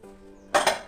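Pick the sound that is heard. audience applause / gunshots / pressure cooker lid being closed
pressure cooker lid being closed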